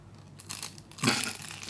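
Crispy pastry bitten into, with a soft crinkly crunch near 0.5 s and a louder, sharper crunch about a second in, close and quiet, with no talking.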